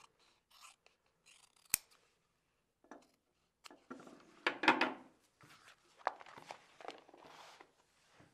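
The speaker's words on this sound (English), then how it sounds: "We cut a strip of kangaroo hide." Scissors cutting a strip of kangaroo hide, a series of close, crisp snips and rustles with a sharp click, irregular and quiet between cuts.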